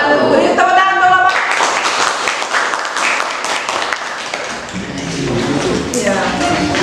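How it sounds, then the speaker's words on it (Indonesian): Classroom applause after a class presentation: a broadband patter of clapping from a group of students, fairly loud and sustained, with voices mixing in at the start and near the end. "Beri tepuk tangan tolong."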